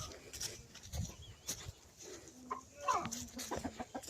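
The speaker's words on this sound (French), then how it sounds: "c'est la poule noire avec le doré qui fait le bruit." A black and gold hen clucks nearby, a few short soft calls scattered among faint rustling and quiet background noise during feeding in a coop.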